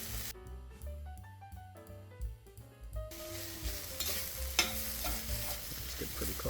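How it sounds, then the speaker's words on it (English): Meat and fresh basil sautéing for homemade spaghetti sauce: a broad sizzle builds after a few seconds, with stirring scrapes, while background music plays throughout. "We're just going to add all those in right now and get everything sauteed until it's nice and aromatic"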